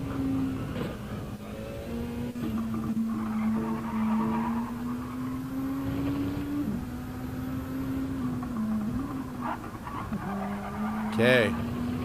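Race car in a GT sim-racing game, its engine holding a steady drone that dips and climbs as gears shift and the car brakes, with brief tire squeal, under continuous commentator talk.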